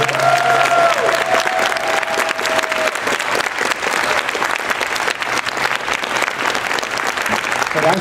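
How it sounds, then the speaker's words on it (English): At a convention panel, an audience breaks into loud, sustained applause with some crowd noise and faint cheering mixed in, the clapping dense and constant throughout. "Let's give them a big round of applause."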